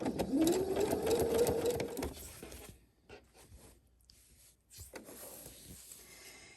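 A sewing machine runs a zigzag stitch at close range for about two seconds, a whirring hum that rises slightly in pitch, then stops, leaving soft rustling and handling sounds.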